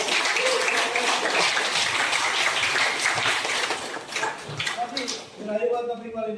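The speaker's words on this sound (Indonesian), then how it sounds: "Tepuk tangan untuk kelas 12 tadi." Applause from a class of twelfth-grade students at the close of a school lesson, a dense burst of many hands clapping that fades out over several seconds, with voices starting up as it ends.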